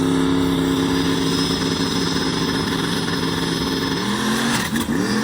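A fast Ford drag racing car roars down the track on a pass, a loud continuous engine drone with steady harmonics and a brief wavering dip near the end as the tires spin a little.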